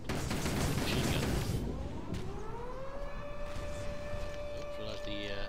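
An air raid siren wails in the Toy Soldiers video game, rising from around two seconds into a sustained loud tone over dense battle noise and gunfire.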